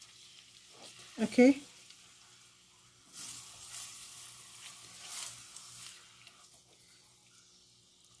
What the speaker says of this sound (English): I'm just going to stir it gently and allow it cook on a very low heat.